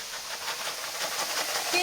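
Chopped onion and mushrooms frying in a pan, a steady close sizzle and hiss that holds evenly throughout.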